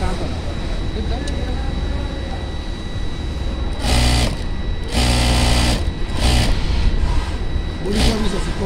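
A sewing machine with a zipper foot and metal feed wheel pulls fabric through in loud, rapid stitching bursts separated by short pauses, while a person talks throughout.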